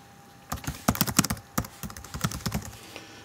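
Keys clatter on a computer keyboard as a web address is typed, a quick uneven burst of close, crisp taps with short pauses and no voices.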